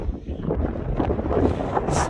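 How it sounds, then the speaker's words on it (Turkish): Strong wind buffets the microphone at a volcanic crater in Iceland, a steady loud rushing roar with gusty swells that continues throughout, with no voices. "Çok da rüzgar var ya, içim dondu."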